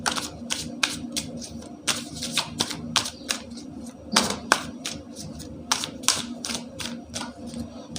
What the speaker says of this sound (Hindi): देखिए कार्ड गिर गए हैं